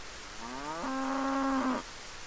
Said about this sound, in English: We're a cow.